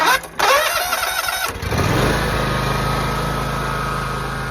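A John Deere X300 lawn tractor with a bad solenoid is jumped by bridging the solenoid bolts with a screwdriver, so the engine cranks loudly and close, then catches and runs at a steady idle with no talk.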